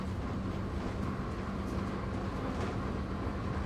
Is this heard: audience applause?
no